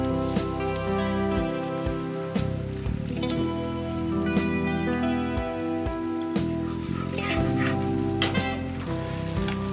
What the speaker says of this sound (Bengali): বেশ সুন্দর লাল লাল করে একটু ভেজে নিতে হবে